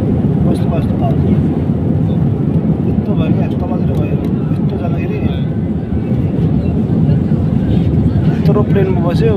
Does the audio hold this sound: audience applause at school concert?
no